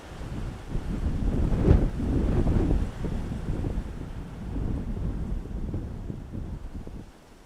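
Storm Floris gusts buffeting a microphone at Dublin Airport, a heavy low rumbling roar that swells and eases over several seconds with no voices.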